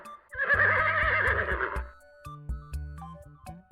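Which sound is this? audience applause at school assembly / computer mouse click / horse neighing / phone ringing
horse neighing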